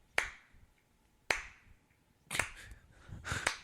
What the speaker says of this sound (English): I'm slow clapping